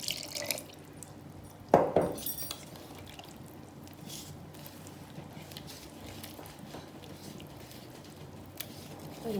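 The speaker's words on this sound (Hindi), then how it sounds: "दूध थोड़ा सा और डालूंगी।" Milk pours into homemade Belgian waffle batter in a kitchen, a soft, faint liquid trickle with a brighter splash about two seconds in, then a quiet stream.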